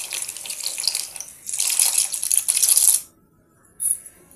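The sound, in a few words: pasta poured into salted hot water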